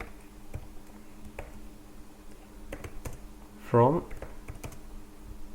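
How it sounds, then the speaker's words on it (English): Computer keyboard typing out a SQL search query, scattered light key clicks in short irregular bursts, fairly quiet, with a brief spoken word partway through. "in another bracket I need to type in a search query to find out the ID of the first term"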